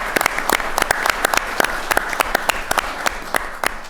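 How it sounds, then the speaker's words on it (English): Conference audience applauding steadily, a dense patter of many hands clapping at once with sharper individual claps standing out, close and sustained throughout. "if you could all join me in a round of applause"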